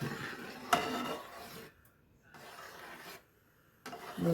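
Banana payasam being stirred in a pot just off the gas, with soft, close scraping and rubbing strokes of a spoon against the pot, broken by short pauses.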